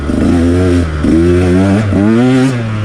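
A 2019 Husqvarna TE 150 dirt bike engine revs in three close, loud bursts, each climbing in pitch and then dropping back over a steady idle rumble.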